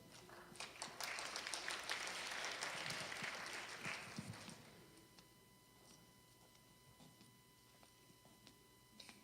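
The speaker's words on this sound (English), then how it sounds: "Please give a round of applause for Angel Galbraith." A pageant audience claps for a contestant, a fairly quiet burst of applause that swells for a few seconds then fades out into a near-silent room with a few scattered taps.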